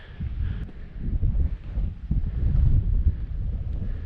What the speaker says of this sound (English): it's just a smack in the face from the wind up here